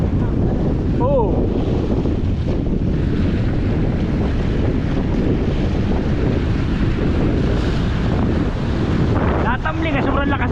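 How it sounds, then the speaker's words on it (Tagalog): Strong wind buffets the microphone over the constant roar of crashing ocean surf, loud and unbroken throughout. "sobrang lakas ang alon"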